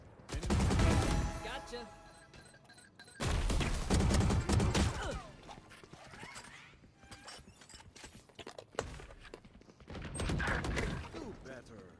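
Gunfire in the shooter game Valorant comes as loud bursts of rapid shots and a few single cracks spread through the stretch, while a player talks over the action.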